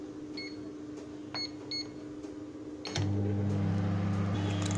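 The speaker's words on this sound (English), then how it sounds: "Okay, let's microwave them." A microwave oven with candy inside beeps as buttons are pressed, then a door clunk is followed by the steady, fairly loud hum of the oven starting up and running.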